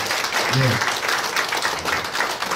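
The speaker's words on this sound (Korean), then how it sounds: "이분들을 위해서 여러분 큰 박수 한번 쳐주시길 바랍니다" Audience applause at a year-end gathering of a regional hometown association, a broad steady patter of many hands under a voice speaking over it.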